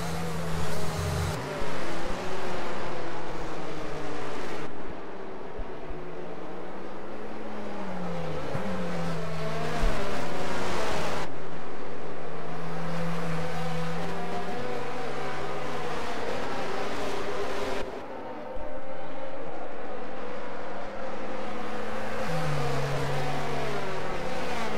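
Racing cars lap the Singapore circuit in a racing video game, engines droning steadily with rising and falling revs and repeated gear-change cuts, loud and continuous throughout.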